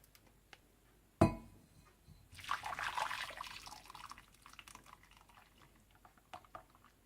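Curry soup is poured into a serving plate with a faint, close liquid pour and a few soft drips after a single clink, all quiet with no talking.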